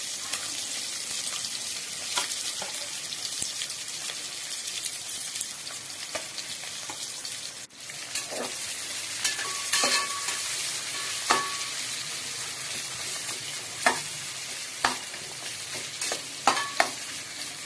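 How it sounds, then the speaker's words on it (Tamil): Onions and green chillies frying in oil for chicken biryani, a steady close sizzle with scattered sharp pops and spatula scrapes throughout. "போட்ட உடனே கூடவே வெங்காயம் 2 பச்சை மிளகாய் போட்டு நல்லா ஃப்ரை பண்ணுங்க"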